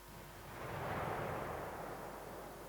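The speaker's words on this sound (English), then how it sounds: "So that's the explosion sound effect, the full long one." An explosion sound effect played in full length for a vehicle physics demo, a broad rumbling roar that swells over the first second and then holds as a sustained, fading wash of noise.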